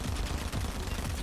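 Enemy gunfire in a Fortnite match, a loud rapid burst of continuous automatic shots with a dense crackling texture, close and sustained throughout.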